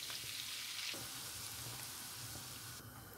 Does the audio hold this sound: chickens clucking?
no